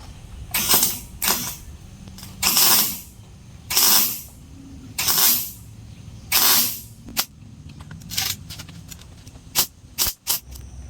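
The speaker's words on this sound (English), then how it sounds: "I'm gonna go ahead and weld this back side in so we make sure that this is good and strong" The back side of a 1966 Ford Bronco window frame is being welded in a row of short, evenly spaced hissing, crackling bursts, followed by a few quicker, clipped zaps at the end.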